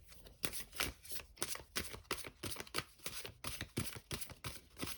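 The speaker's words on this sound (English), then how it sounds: "we'll do one last shuffle" Rapid crisp riffling of playing cards, repeated in quick bursts close to the listener, fairly quiet with no voices.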